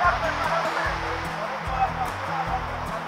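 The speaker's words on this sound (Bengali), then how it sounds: "দেখেন আপনারা স্রোতের গর্জন শুনতে পাচ্ছেন নিশ্চয়।" Ocean surf roars on the beach at Cox's Bazar, a constant broad wash of breaking waves while someone talks over it nearby.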